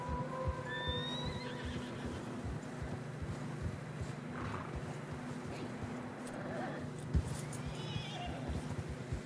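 Horses plod through fresh snow in Red Dead Redemption 2 with a steady, uneven clip of hooves, snorting and whinnying now and then under a soft wind, game-like and fairly near.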